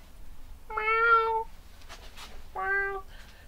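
A cat meows twice, clear and close, with a short quiet gap and some faint background noise between the calls.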